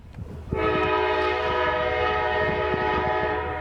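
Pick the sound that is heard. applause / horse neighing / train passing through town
train passing through town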